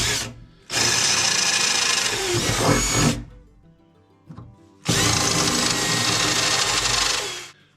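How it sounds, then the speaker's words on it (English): A clearance drill boring bolt holes for a remote control mount on a Massey Ferguson GC2300 tractor, heard as two loud sustained bursts of whirring and grinding with a short quiet gap between them, no talk. "I have my clearance drill here to drill these out."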